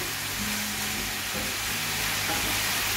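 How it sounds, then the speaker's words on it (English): Bacon sizzling steadily in a hot pan while being stirred, a dense, continuous crackling hiss heard close up with faint scraping. "just add your bacon back to the pan. Give it a stir."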